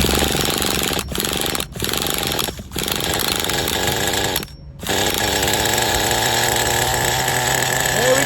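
HPI Bullet 3.0 nitro RC monster truck engine with roto start, cranked in short bursts with brief gaps, then firing into a loud, buzzing, high-revving run close to the microphone.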